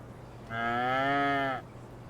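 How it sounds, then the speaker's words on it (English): A single long, loud cow moo on a farm, rising and holding steady for about a second before cutting off, with a low steady hum underneath. "So cows are doing well."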